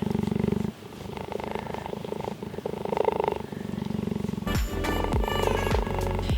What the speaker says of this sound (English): You gotta love that purr.